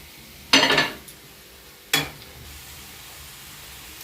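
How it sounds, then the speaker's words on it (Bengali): Fried prawns are stirred in a pan of mustard sauce, giving two short bursts of scraping and sizzling, the first longer, with quiet gaps between. "চিংড়ি মাছগুলো দিয়ে একটু ভালো করে নেড়ে দেব"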